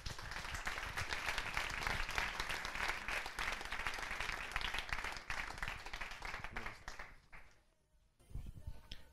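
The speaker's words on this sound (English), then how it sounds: "I would love that you give a huge round of applause for OUSSAMA for his talk" An audience gives a long round of applause after a speaker's talk, a dense steady wash of clapping that thins out and drops away near the end before a brief return.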